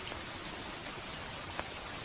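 Steady rain falls continuously, a dense even hiss of drops striking surfaces with occasional closer, louder drips standing out, and no voices.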